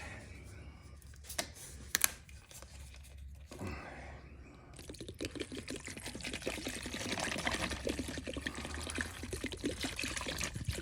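Plain household vinegar pours into a container for soaking beach cruiser bicycle parts, a steady liquid trickle that builds into a fuller, continuous pour after a few seconds of quieter handling noises.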